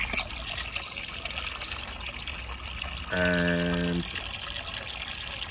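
Water pours and trickles into a container holding shellfish, a steady close splashing flow throughout, with a brief tonal hum partway and a voice barely present.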